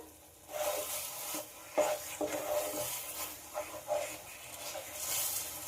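Sago laddu mixture with raisins stirred in a pan over low gas as it clumps together, quiet scraping and dragging strokes with a faint sizzle and a few soft knocks.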